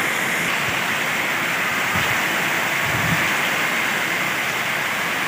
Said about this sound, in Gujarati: એટલો વરસાદ વરસે જોઈ લ્યો.